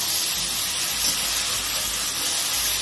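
Vegetables with grated ginger frying in a pan, a steady broadband sizzle that holds at an even loudness close by throughout, with no talk over it.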